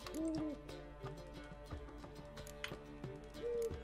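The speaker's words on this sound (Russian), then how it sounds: "Это же сова." Owl in The Witcher 3: Wild Hunt gives several low hooting calls against tonal game music, moderately loud, with soft taps and movement noises scattered between them.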